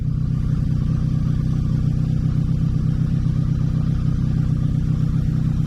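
The engine of a 1984 Honda Magna VF700C motorcycle runs with a steady, loud, throbbing drone and holds a constant high idle, with no talking.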